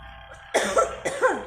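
Two short, close coughs in quick succession over a faint steady hum, each a rough burst from one person, during a church service.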